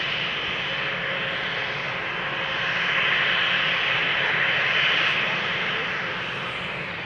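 An all-white, Croatian-registered, 17-year-old ETF Airways Boeing 737-800 at Amsterdam Schiphol produces a steady jet engine roar and whine nearby that swells midway and then eases slightly.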